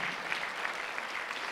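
A church congregation clapping during a Sunday worship service, a steady even patter of many hands at moderate distance, briefly and without voices.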